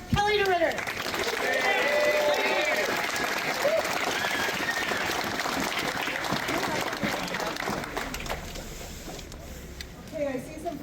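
A large crowd at an outdoor firearms rally applauds a speaker taking the stage, loud sustained clapping with cheers and scattered voices that slowly thins out toward the end.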